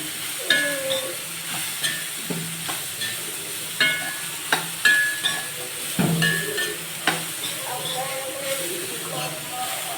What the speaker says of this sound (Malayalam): ഇത് നന്നായിട്ട് ഇളക്കി കൊടുക്കണേ